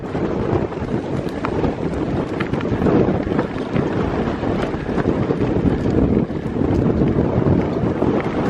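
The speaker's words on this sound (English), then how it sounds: "Oh, wind." Strong, steady wind near Trévoux, France buffets the microphone, a loud continuous roar with gusty surges and a watery rush underneath.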